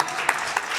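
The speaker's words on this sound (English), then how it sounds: "Thank you for that round of applause from him" Steady applause from an audience at a Black History Month honors ceremony for constituents, a short burst of dense clapping with a couple of sharper peaks.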